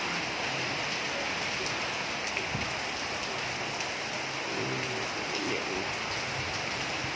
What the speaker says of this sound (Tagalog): Ulan na lang. Kunting hangin na lang.